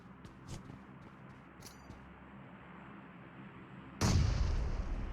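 A loud sudden blast from a grenade explosion in PUBG Mobile breaks a quiet stretch of faint ambience and distant pops, then rumbles on.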